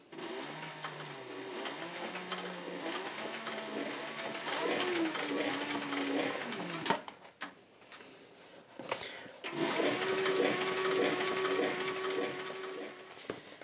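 A sewing machine stitches and backstitches a cloth-lined leather belt pouch, a close, fairly soft mechanical whir that runs steadily, pauses briefly with a few clunks, then resumes.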